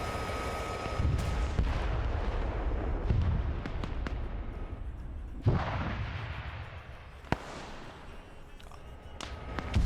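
Tanks in a war video game fire heavy cannon rounds at their own tanks, booming blasts and sharp cracks echoing over a rumbling battlefield bed, a few loud hits standing out across the stretch.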